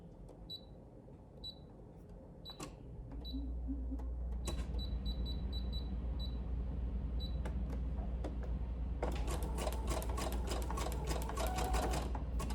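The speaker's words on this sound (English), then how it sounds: "And I'll switch to my zigzag stitch." A domestic sewing machine runs a zigzag stitch, sewing elastic onto garment fabric, starting with light clicks then settling into a loud, steady mechanical whir with rapid ticking from about three seconds on, no talking.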